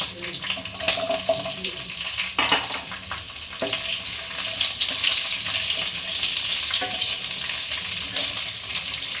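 Green chillies, ginger and onion frying in a pan over medium heat, a steady close sizzle that thickens and grows louder partway through, with a few clinks of a utensil against the pan.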